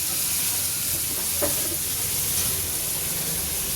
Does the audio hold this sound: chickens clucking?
no